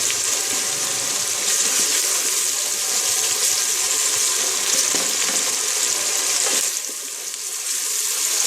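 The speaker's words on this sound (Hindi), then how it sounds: "ये हमारा मसाला भुन रहा है।" Masala spices roasting in a pan for masoor dal, a constant close sizzle and hiss with light stirring, easing off briefly near the end, no voices.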